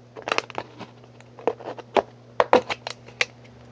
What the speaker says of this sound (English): I'm just kind of sawing it right now.